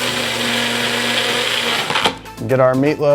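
An electric mixer whirs loudly through a meatloaf mixture for two seconds, then stops, and a person starts speaking.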